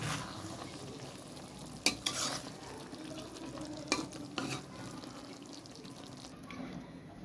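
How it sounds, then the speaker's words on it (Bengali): Shol fish dopiaza with fresh coriander leaves being stirred in a pan, giving a steady soft sizzle with a few louder scraping strokes of the spoon. "ধনেপাতা দিয়ে একটু নেড়ে দেব।"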